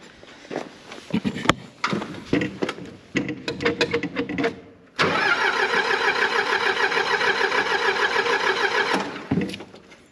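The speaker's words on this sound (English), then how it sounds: "I'm gonna start up the forklift, let it warm up a little bit" Shuffling and clunking sounds come first, then a forklift engine, cold and needing choke, cranks and catches into a steady, loud, rhythmic running that stops abruptly near the end.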